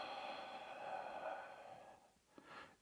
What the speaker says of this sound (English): Do a couple of breaths here.